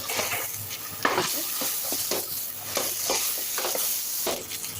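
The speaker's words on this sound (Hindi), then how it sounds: "अब इस स्टेज पे जो हमने बैंगन थे वो हम इसके अंदर ऐड कर देंगे और इनको अच्छे से मिक्स कर देंगे" Eggplant being stirred into sizzling masala in a pan for baingan bharta, with a steady loud sizzle and repeated scraping stirs at a regular rhythm, close up and with no talking.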